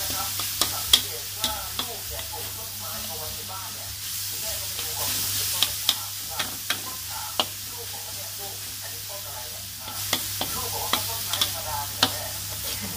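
Rat meat is dry-fried in a pan, giving a steady sizzle with sharp, regular scraping clicks from the stirring, close and fairly loud.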